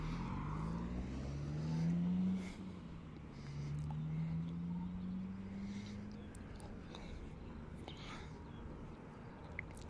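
A car is started and driven off near the RAF Molesworth site, its engine note rising and falling as it pulls away, with steady outdoor background noise throughout.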